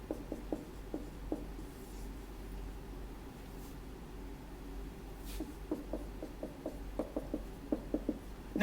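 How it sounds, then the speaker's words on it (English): Marker or chalk strokes on a classroom board come in short bursts of scratchy taps and rubs, sparse early and then denser near the end, over a low steady room hum. "I'll write it up on the board here."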